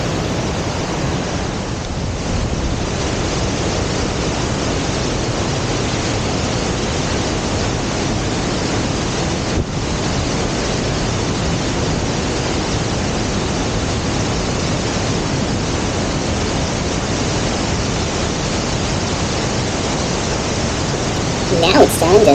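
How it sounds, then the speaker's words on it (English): Latourell Falls, a waterfall nearly 224 feet tall, roaring as a steady broadband rush of falling water, constant and close, with a brief sound near the end. "This waterfall is nearly 224 feet tall and has lichen growth all around it"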